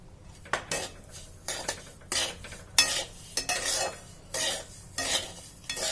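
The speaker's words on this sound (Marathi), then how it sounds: "तूप लगेच विरघळलं आणि रवा आपला छान भाजायला सुरुवात झाली।" A spoon scrapes and stirs semolina roasting in ghee in a pan, repeated rhythmic metallic scrapes close by, with faint sizzling underneath and no talk.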